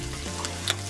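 Fried pig blood with onions sizzles steadily in a pan while it is stirred, a close, continuous frying hiss with faint scraping from the spoon.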